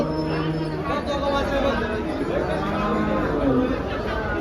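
HF and Jersey cows low over a busy cattle market hubbub in Dhule, their moos partly buried under steady crowd chatter and nearby talking.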